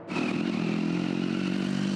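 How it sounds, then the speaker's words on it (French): A motorcycle with an open, unrestricted exhaust roars through city traffic in Monaco, a loud sustained engine drone that swells in quickly and holds steady and rough, near and alone. "Les motos qui font du bruit à échappement libre"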